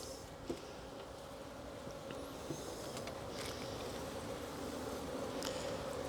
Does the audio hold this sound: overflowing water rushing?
no